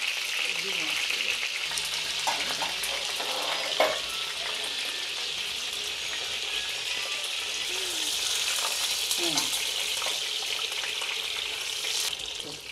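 Continuous crackling sizzle of duck eggs frying in a pan, close and steady, with occasional louder pops and a brief clink.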